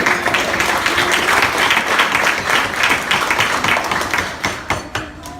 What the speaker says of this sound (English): So I think that deserves a round of applause right there.